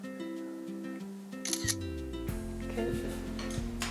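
Camera shutter click while taking a selfie in an RPG video game, a couple of short crisp snaps heard over steady game background music with sustained tones.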